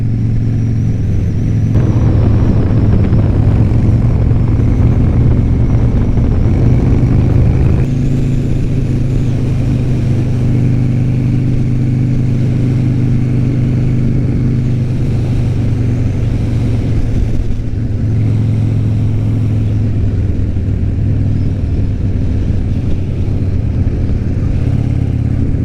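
A 2003 Triumph Anniversary motorcycle being ridden, its engine a loud continuous rumble with wind noise, shifting pitch as it changes gear early on and holding steady through the rest of the ride.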